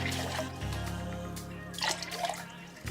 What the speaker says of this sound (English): So I'm gonna start with just some water.